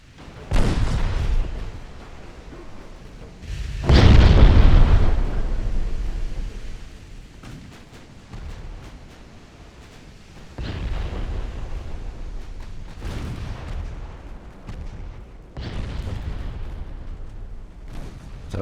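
Heavy main guns of armored cruisers fire in a naval battle game set in 1904, several deep booming salvos spaced apart, each loud and rumbling with a long decaying tail, no voices over them.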